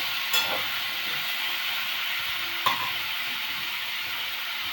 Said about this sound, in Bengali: ওটা তুলে নিয়ে আলু মটরশুঁটি ভেজে নেব